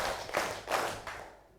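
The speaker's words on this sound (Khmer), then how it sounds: "ឥឡូវយើងបានចូលក្រុមហើយសុំទះដៃ1 2 3" A group of children in a classroom claps in unison, about four sharp, evenly spaced claps close by.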